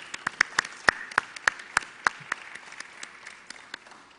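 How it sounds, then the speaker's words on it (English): Sparse, scattered clapping from a small audience at a state governor's press briefing, about twenty distinct claps in an uneven rhythm that thins out toward the end, recorded in a quiet room. "Let's give them a round of applause."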